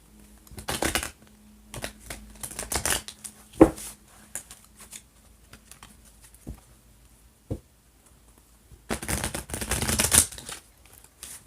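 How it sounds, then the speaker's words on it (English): A tarot deck being shuffled by hand in a quiet room, with several bursts of riffling card patter separated by pauses and a few sharp taps, close and fairly loud. "I'm going to give them a couple more shuffles."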